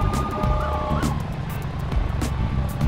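A police siren wails over a rumbling engine in Arma 3, with sharp short bursts cutting in, like vehicle sounds in a game.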